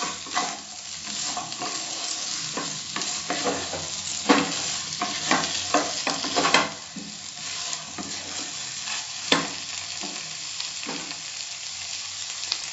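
Salted chicken pieces for Konkani chicken curry stirred in a sizzling pan, with frequent scraping and clacking strokes over a constant close frying hiss and no talking.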